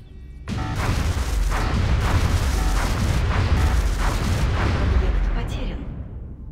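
Plasma cannon fire in XCOM Enemy Unknown: a sustained loud barrage of booming bursts with repeated sharp cracks over roughly six seconds, then a fading tail.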